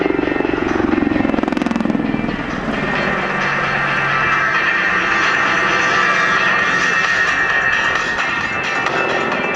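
Loud, close helicopter rotor thrum and turbine whine at the Sanicole Airshow 2010, continuous throughout, shifting slightly in pitch as the aircraft maneuvers.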